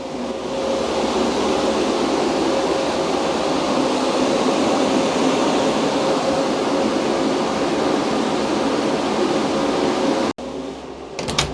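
Loud, constant broadband roar from a hot room of cryptocurrency mining hardware, a steady fan-driven hum with a faint tonal whine. It cuts off abruptly near the end, then continues more quietly.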